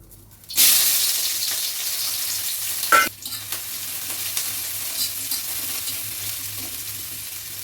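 Food tipped into a hot pan bursts into a sudden loud sizzle that slowly fades into steady frying, with a scrape of stirring partway through and no talking.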